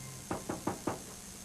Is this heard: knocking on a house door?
yes